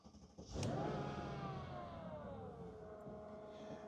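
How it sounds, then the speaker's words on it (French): A 2001 Mercedes 500 SL V8 starts with a sharp starter catch, surges into a loud close rev, then settles into a smooth, steady idle hum. "Alors, on va bien sûr la démarrer. Très beau V8."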